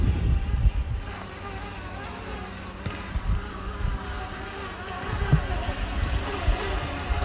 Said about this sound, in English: I'm going to try an automatic takeoff again.